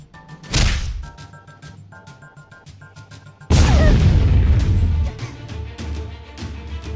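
A thrown bomb detonates in the Troubleshooter game, a heavy sudden boom with crashing debris that rings out and decays over a couple of seconds, after an earlier short thump and some clicking interface sounds.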